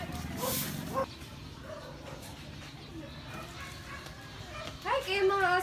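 Dogs give small yips and whimpers beneath people talking, with a louder burst of barking and yelping near the end.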